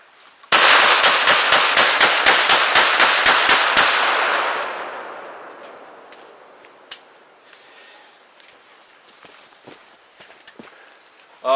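Rapid burst of high-velocity, high-energy rounds fired into a one-foot-square level 8–9 ballistic barrier panel, dense loud cracks for about three and a half seconds, then a fading ring with a few scattered sharp pops.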